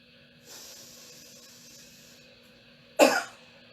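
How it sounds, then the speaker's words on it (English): A soft hiss of breath is followed by a single sharp, forceful cough close by, then quiet. "take a nice deep breath, and cough."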